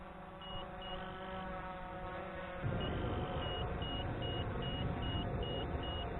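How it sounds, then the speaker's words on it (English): A Simtoo Dragonfly Pro drone in flight sounds a repeating series of short, evenly spaced low-battery warning beeps over a steady motor and wind hum, faint and regular throughout. "getting a low battery warning"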